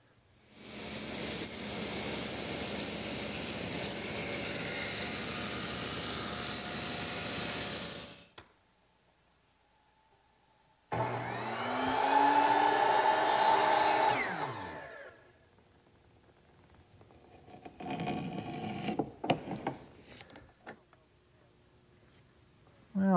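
A power saw rips excess material from a length of wood molding in a workshop, giving a loud, close, sustained high whine for about eight seconds. After a pause comes a second shorter burst with the motor spinning down, followed by scattered handling knocks.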